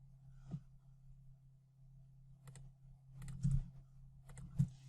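Computer keyboard keys are pressed in quiet scattered clicks during Photoshop image editing, a few isolated taps followed by a short cluster near the end, over a faint low hum.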